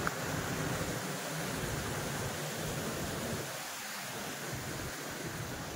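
Handibhanga Waterfall in the hills of Keonjhar, Odisha, a dense, steady roar of falling and flowing river water, loud and unbroken, with no voices.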